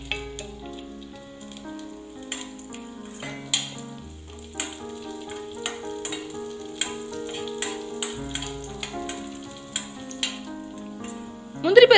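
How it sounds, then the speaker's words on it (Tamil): Cashew nuts fry in ghee in a kadai with a soft, steady sizzle and light crackle. Occasional clicks and a faint musical background sit underneath, with no talking. "முந்திரி பருப்பு இந்த மாதிரி ஃப்ரை ஆகி வரும்போது"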